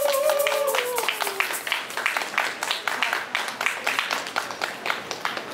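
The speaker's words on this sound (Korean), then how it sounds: "그럼 큰 박수로 우리 아우성 학생분들을 모셔보도록 하겠습니다" A crowd applauds performers at a busking show in Jeongneung Market, with steady clapping that pulses rhythmically. A voice is heard briefly at the start.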